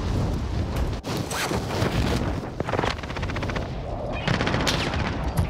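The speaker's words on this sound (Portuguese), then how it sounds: "Tô tomando tiro lá da frente" Gunfire in Call of Duty: Warzone: dense, loud bursts of rapid automatic fire and single cracks come almost nonstop from several directions, some close and some farther off.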